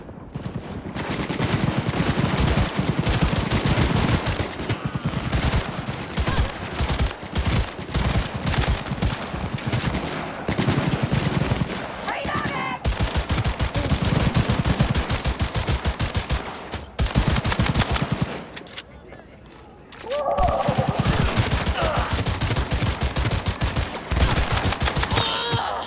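Automatic gunfire in Cyberpunk 2077, long rapid bursts of shots at high volume with short gaps and a brief pause near the end before firing resumes.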